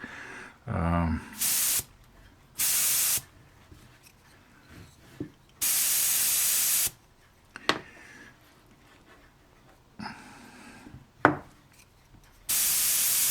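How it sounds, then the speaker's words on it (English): Steam hissing from a leaking nozzle cap and nut cap on a model ship's steam engine, coming in several loud, sustained spurts of a second or so separated by quieter gaps with faint clicks and knocks. "it's leaking out the nozzle cap, and it's leaking on this nut cap"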